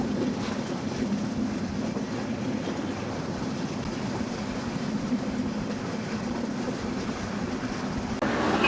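The Rangpur Express runs along the rails at speed in a dense, constant roar of wheels and carriages with an underlying clickety-clack, loud and unbroken, growing slightly louder at the end.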